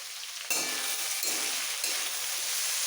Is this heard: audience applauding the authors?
no